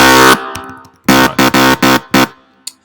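A Polyhook synth lead from the XS24 plugin plays loud, bright buzzy notes: one long held tone, then a run of four short rhythmic stabs and a final brief blip, with no voices.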